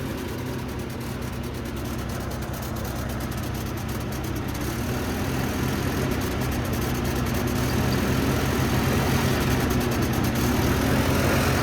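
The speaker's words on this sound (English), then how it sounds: "when I unhook that the engine tries to stall" The old Massey tractor's engine idles steadily with a low, continuous rumble, close by and alone, and its pitch wavers slightly as it labours toward stalling with the booster cable off and the battery nearly dead.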